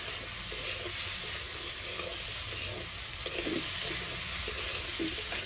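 Meat and potatoes frying in a pan during a village night picnic: a steady, close hiss of sizzling oil with faint stirring scrapes, continuous throughout.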